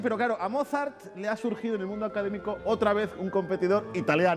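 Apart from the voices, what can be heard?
No distinct noise like a dog, phone or traffic.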